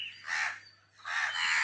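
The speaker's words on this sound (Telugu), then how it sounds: "కాకులు చూసారా దాని పక్కనే కావు కావు అంటున్నాయి." Crows caw near a monkey sitting in an outdoor spot. Two drawn-out, raspy calls come close together, fairly near and clear, against a quiet background with a faint low hum and no talking.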